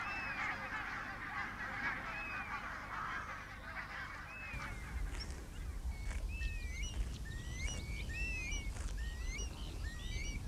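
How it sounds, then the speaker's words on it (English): A flock of geese setting off on migration toward Iceland honks and calls repeatedly, many overlapping cries at moderate distance over a steady outdoor background, growing busier in the second half. "The first geese depart for Iceland, a staging post on their long onward flight to Greenland."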